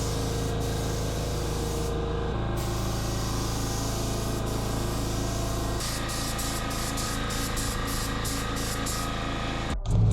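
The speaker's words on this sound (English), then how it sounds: "as we spray it down with the second and third coat." A paint spray gun hisses steadily while laying base coat on a Honda Civic, a continuous close airy spray that breaks into short rapid pulses near the end before cutting off.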